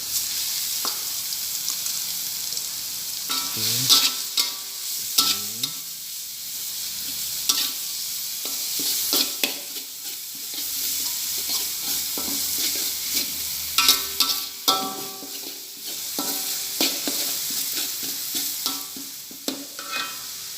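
Shredded beef frying in hot oil over a lowered flame gives a steady, close sizzle, broken by irregular scraping stirs of a utensil against the pan, with no voices.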